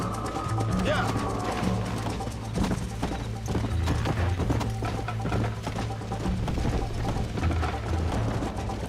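A horse gallops during a race in the Red Dead Redemption video game, its rapid, loud hoofbeats pounding continuously under someone talking.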